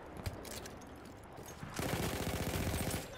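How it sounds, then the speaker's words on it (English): Hip-fired gunshots in the video game Battlefield 1 crackle in a dense burst during the second half, preceded by quieter scattered in-game battle noise. "I'm just hip firing at this point"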